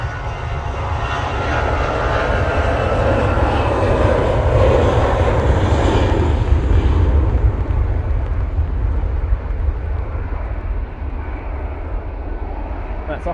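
A Jet2 Airbus A321ceo on its take-off roll at Manchester Airport on a windy day, a loud sustained engine roar building and holding close by, then easing slightly as it passes into the distance.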